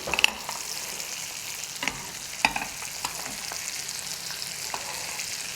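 Beef tenderloin with fresh herbs sizzles steadily in a pan with melted butter, a spoon basting it and giving a few light metallic clicks over the continuous close hiss.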